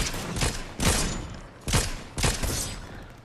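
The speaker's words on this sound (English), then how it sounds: "David's already shooting." Gunfire in Fortnite, four separate sharp bursts spaced about half a second to a second apart, fairly quiet and dry, with no talking over them.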